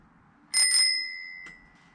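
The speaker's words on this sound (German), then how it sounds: "Ich habe natürlich eine Klingel hingemacht." A bicycle bell mounted on a Giant Toughroad SLR1 touring bike gives one bright double ring that hangs and fades, followed by a faint tap, loud and close with nothing else heard.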